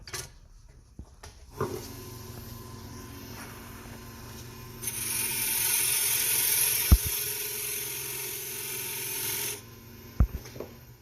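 A handmade pink ring being filed and sanded down to size, with a long, steady rasping stretch in the middle, flanked by a few sharp taps and knocks, close up and without talk.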